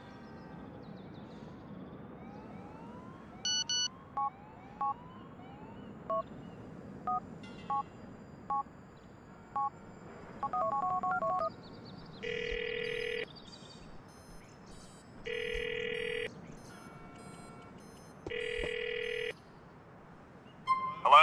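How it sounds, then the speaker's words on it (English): Phone dialing in the video game GTA 4: a run of short keypad tones tapped out one by one, then several long repeated ringing tones with pauses between, over a low background hum. "You've got to call him and keep a lookout for someone answering a phone."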